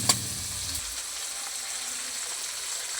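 Chopped tomatoes frying in a pan with garam masala, cumin, chilli, bay leaves and onion, giving a soft, continuous sizzle that stays quiet and even, with a faint clink at the start.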